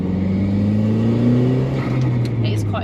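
A 300bhp Ford Escort RS Cosworth engine revs up close by in a loud, steady rumble whose pitch climbs gradually, with a few faint higher sounds near the end.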